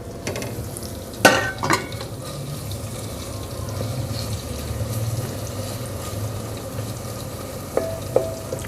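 Tomatoes and turnip cook in a pan with a steady low sizzle and bubbling, broken by a few sharp clinks of a spoon or lid near the start and end.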